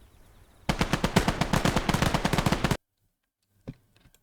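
Sustained machine-gun suppressing fire from a BAR team in the World War II video game Gates of Hell, a rapid even burst of shots lasting about two seconds, then a sudden cut to near silence with one faint later thump.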